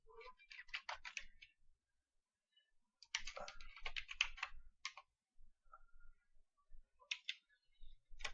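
Typing Bangla text on a computer keyboard, close, light plastic key clicks in quick bursts separated by short pauses, with no talking.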